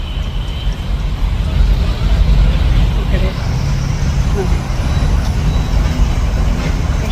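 Road traffic with vehicles lined up in a queue, a low steady engine rumble from cars and heavier vehicles close by, while a person speaks over it.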